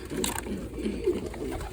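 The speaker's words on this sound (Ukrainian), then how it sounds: "Тут теж недавно родилися голубочки." Pigeons coo softly in a loft with young squabs, low throaty repeated calls close by over a faint background hum, with no talking.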